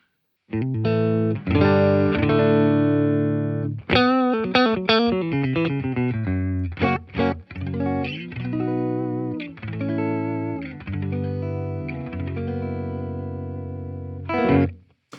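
Electric guitar played clean through a Fender Tone Master Deluxe Reverb amp with flat EQ, ringing sustained chords and quicker picked phrases with short pauses, loud and close, no voices.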